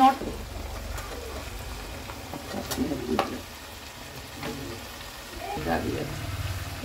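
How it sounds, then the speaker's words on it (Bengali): Coconut frying in a pan, a soft continuous sizzle with occasional louder crackles and spatters, close by, while people talk intermittently over it. "তার জন্য নারকেল ভাজা, পরে পেঁয়াজ ভাজবো"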